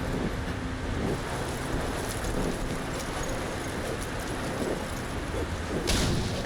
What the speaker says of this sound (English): This is like tornado level winds right here.